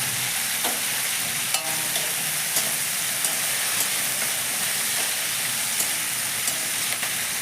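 Whole spices, bay leaf and dried red chilli crackle and fry in hot oil as a steady, close sizzle, with small pops and clicks of stirring scattered throughout and no talking.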